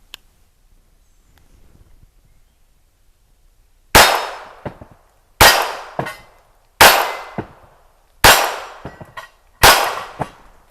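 Five sharp, loud gunshots from a Ruger Mark IV pistol firing CCI standard velocity rounds at targets, spaced about a second and a half apart, each followed by a short metallic clang and brief echo after a quiet stretch.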